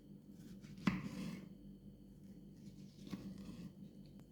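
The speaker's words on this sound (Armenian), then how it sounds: "այս պահին լոլիկներն եմ կտրատում" Tomatoes being chopped on a board while making fish baked in grape leaves: a couple of soft, separate knife taps, close and fairly quiet, over a low, steady background.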